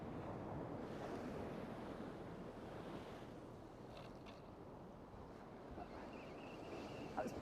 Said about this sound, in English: there is a little bit of a swell coming over